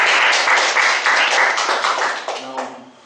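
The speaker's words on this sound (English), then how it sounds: "Let's give her a round of applause" Audience applause at a speakers' forum meeting, a close burst of rhythmic hand clapping that fades out after about two and a half seconds as a voice begins.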